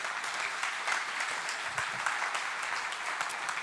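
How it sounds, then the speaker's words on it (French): Dense, steady applause from a church congregation at a prayer meeting, a continuous wash of many hands clapping at even loudness throughout, with no voices standing out. "Est-ce qu'on peut faire vraiment un tonnerre d'applaudissements pour notre Dieu, s'il vous plaît"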